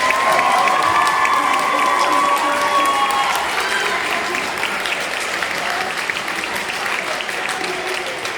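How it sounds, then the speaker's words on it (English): Sustained audience applause for students at a high school concert, a dense steady patter of many hands clapping throughout with faint crowd murmur and a few cheers mixed in. "Please give these students a round of applause."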